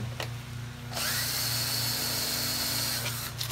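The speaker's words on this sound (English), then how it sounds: "Just gonna hold the bolt still and turn the screw." A power tool turns a screw while the bolt is held still on a Razor E200 electric scooter, starting after a short pause and then whirring steadily and close for several seconds.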